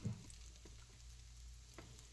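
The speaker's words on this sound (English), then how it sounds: "We'll sear the noodles." Noodles sear in a hot pan with a faint, steady sizzle and a few soft stirring taps, quiet and close with no voices.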